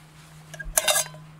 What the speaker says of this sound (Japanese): 実際にちょっと鍋を乗せてみると